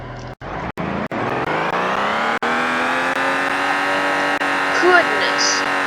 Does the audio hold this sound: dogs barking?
no